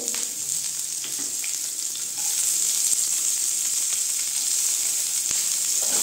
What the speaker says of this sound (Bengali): পেঁয়াজগুলো আমি একটু হালকা করে ভেজে নিব একটু।